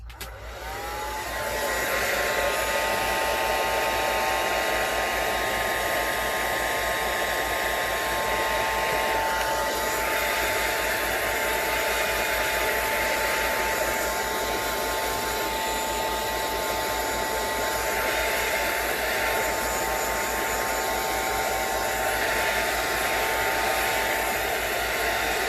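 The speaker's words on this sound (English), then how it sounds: "let's dry this with my dryer" A handheld hair dryer blows on paint in an art journal, giving a steady, loud whooshing roar with a high whine that starts abruptly and runs unbroken for about twenty-five seconds.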